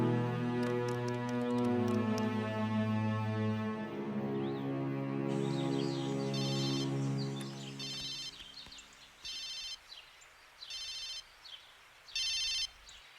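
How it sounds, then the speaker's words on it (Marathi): A telephone rings in repeated bursts with short gaps, following a stretch of music in a Marathi film scene where a call is placed to an MLA's assistant. "वाघमारे, आमदारांच्या पियाला फोन लावा."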